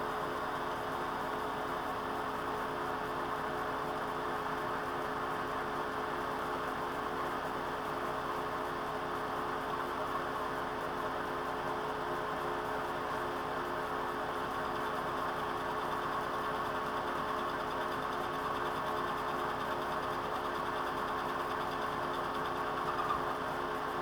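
Metal lathe facing the end face of a steel part for a milling-cutter holder, a steady continuous machining hum with a constant motor tone running throughout, no voices.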